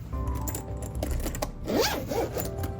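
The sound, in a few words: zipper of a Switch 2 carrying case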